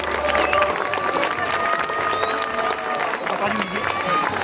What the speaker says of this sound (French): tonnerre d'applaudissements pour les Fire Dusk